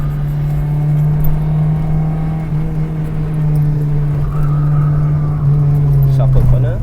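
A 20-year-old Proton Saga drives along a road keeping pace with motorbikes, its engine a steady, loud drone that holds one pitch and then climbs slightly near the end, with no talk over it.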